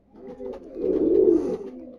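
A racing pigeon gives a single close, throaty coo lasting about two seconds, swelling in the middle and then fading.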